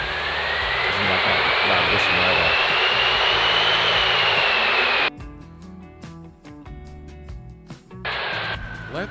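Loud engine roar with a high rising turbo whistle, cutting abruptly to quieter mechanical noise before the whine returns.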